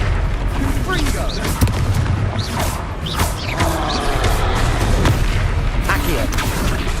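Repeated booming blasts of the Confringo fire spell in a Harry Potter video game, set among the grounds of Hogwarts, with dense rumbling explosions layered with whooshing effects and a voice calling out spells.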